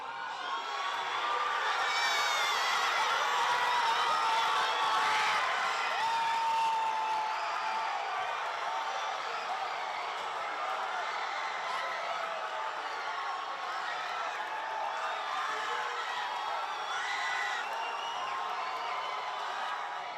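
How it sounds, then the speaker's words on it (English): Big watch-party crowd at Boomtown Brewery in downtown Los Angeles roaring and cheering for a Dodgers World Series Game 1 win, a dense, sustained wall of shouts and whoops that stays loud throughout. "the deafening explosion of this crowd"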